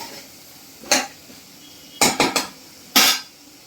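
Eggplant being sautéed in a pan, heard mainly as sharp metallic knocks of a spoon against the pan: one clank, then a quick run of three, then a final loud clank, with quiet gaps between.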